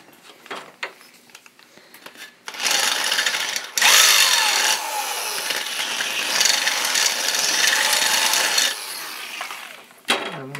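A power drill bores into wood, widening a hole to mount the motor on an electric wheelbarrow build, grinding in two loud sustained bursts separated by a brief pause, with quieter handling noises before and after.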